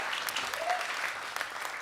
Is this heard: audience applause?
yes